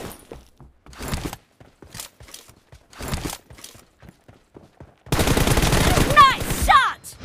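Gunfire in a shooter video game during a one-on-one match comes as several separate sharp cracks, then a long dense burst of rapid automatic shots near the end, loud and close, with brief game voice calls mixed in.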